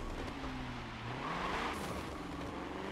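Drift car in Forza 7 with a loud, revving engine whose pitch rises and falls, along with tire squeal and sharp wastegate chatter, heard up close and continuously.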